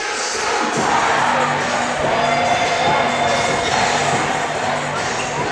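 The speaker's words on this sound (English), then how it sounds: "you can barely hear us, the crowd's so loud. Crowd is getting hyped." A packed high school student section roars at a Pleasant Grove versus Lehi basketball game, a loud continuous crowd din of cheering and shouting with a faint rhythmic chant pattern underneath, no clear speech above it.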